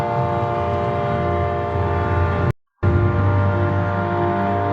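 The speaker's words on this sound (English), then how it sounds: "I just want to know where that noise is coming from, the trains." A train horn sounds in one long, steady blast over the rumble of a passing train, loud and near, cut by a brief dropout before the horn and rolling noise continue.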